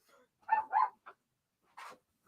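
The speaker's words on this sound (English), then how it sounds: "Oh, the doggies are barking." Dogs bark indoors nearby, a quick pair of barks followed by a shorter yip and then a single later bark, with quiet gaps between.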